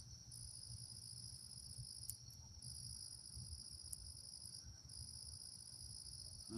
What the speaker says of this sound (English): Finally got some crickets going.